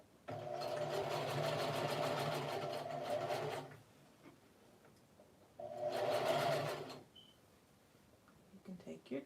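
Sewing machine stitching fabric and elastic together for a lounge set, two bursts of rapid, even needle chatter, the first about three seconds long and the second shorter after a pause, close and clear.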